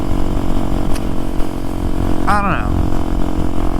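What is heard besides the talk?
motorcycle engine running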